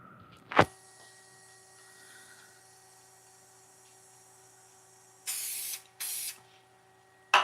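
Short hissing bursts of activator sprayed onto a turned pen on the lathe, two close loud blasts near the end after a quiet stretch with a steady hum and a sharp click at the start.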